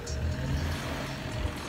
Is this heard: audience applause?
no